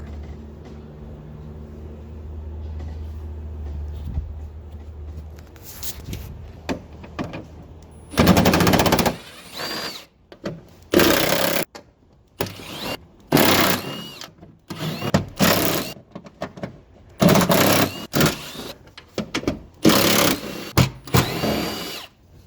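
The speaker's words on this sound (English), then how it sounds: "Now we're going to be removing these 8mm screws." A power tool drives out 8mm screws from the upper trunk lid moulding of a 2010-2013 Range Rover Sport L320, with loud bursts of whirring separated by short pauses after a quieter start.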